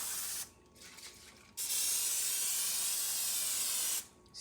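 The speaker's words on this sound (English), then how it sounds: "And I'm gonna spray my pan exactly" Cooking spray hisses from a can onto a pan in two bursts, a short one and then a longer steady spray, close and sharp, with quiet gaps around them.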